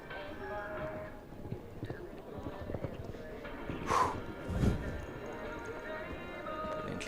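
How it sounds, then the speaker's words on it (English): Horse hooves thud in a galloping rhythm during a show jumping competition at the FEI Jumping World Challenge Final, moderately distant, while an announcer comments over the arena ambience. "She's using the horse's gallop."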